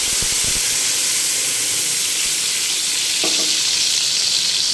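Chickpea curry masala of tomato, ginger and green chilli, freshly dosed with garam masala, fries in a pan with a steady loud sizzle and hiss throughout, a few soft stirring knocks early and midway.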